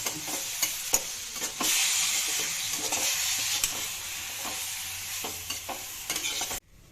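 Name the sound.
stirring tamarind and jaggery mixture in pan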